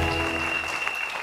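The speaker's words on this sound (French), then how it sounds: "On va l'applaudir très fort." A studio audience on a live variety show bursts into brief, dense applause, with a steady tone ringing underneath.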